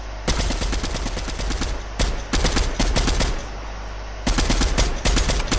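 Rapid automatic gunfire in Fortnite rattles in long bursts, loud and close, with brief gaps between strings of shots and no speech over it.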